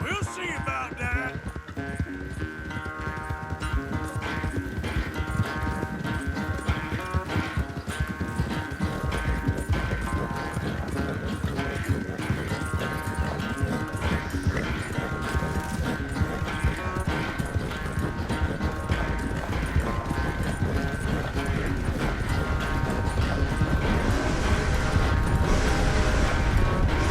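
Galloping horse hooves in Red Dead Redemption 2 pound steadily for nearly half a minute, a dense continuous clip-clop blended with game music and ambient noise.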